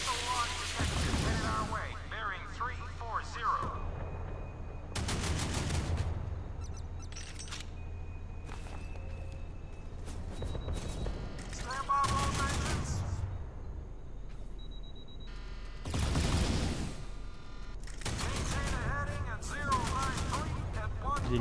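Naval gunfire and missile strikes from the Modern Warships video game come as repeated loud bursts of shots and blasts, spaced several seconds apart, over a steady game background while someone talks.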